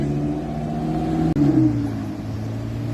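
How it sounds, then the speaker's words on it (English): Lamborghini Huracan at a Gumball 3000 rally, engine humming steadily and close as it drives past, with a short burst of revving partway through before the tone lowers. "There goes the Lamborghini Huracan."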